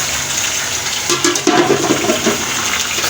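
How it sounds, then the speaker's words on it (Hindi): Liver (kaleji) is frying in a pan, giving a steady, close sizzling hiss with a brief burst of busier bubbling and crackle midway. No one speaks. "कलेजी ऐड करने के बाद इसे थोड़ा सा भूनेंगे।"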